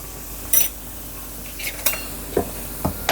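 Asafoetida is added to hot oil for tempering a vegetable curry, giving a faint sizzle under a quiet background. A spoon stirs the pan with about six scattered metallic clinks.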